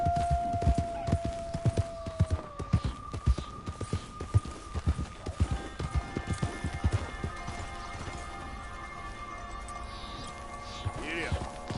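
Horse hooves clip-clop in a steady rhythmic gait, close and clear, with sharp repeated impacts throughout and tonal whines running underneath, while a person speaks at times.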